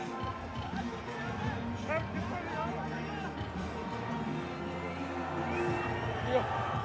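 A large cricket crowd cheering in a packed stadium, a broad sustained roar with whoops and shouts rising and falling, while a commentator talks steadily over it.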